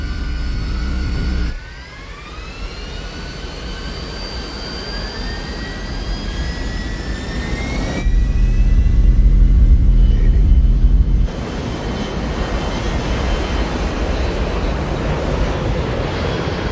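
Jet engines of a US Airways passenger airliner, Cactus 1549, roar steadily on runway 4 during takeoff. A rising whine climbs over a loud broadband rumble, swelling louder partway through before settling to a sustained roar.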